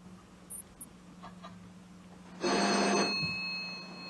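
A doorbell rings in a quiet home, a short loud burst that fades out after about a second, preceded by faint small noises.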